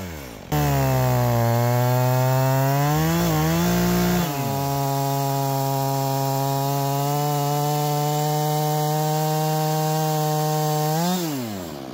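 A small chainsaw with an 18-inch bar milling a log into boards: the engine revs up, dips, then holds a loud steady cutting whine before tapering off, with no talking.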